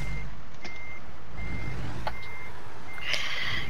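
In American Truck Simulator, a truck backs a long trailer into a spot beside a building, its reversing alarm sounding regular evenly spaced beeps over a low engine rumble, with no talking.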